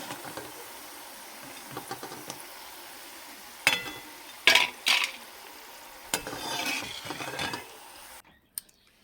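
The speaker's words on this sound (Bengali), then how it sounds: "ভালো করে ভেজে নেব।" Potato fritters frying in hot oil give a soft, continuous sizzle, broken by several sharp metallic scrapes and clinks of a utensil stirring and lifting them from the pan, near and moderately loud, ending in a brief silence.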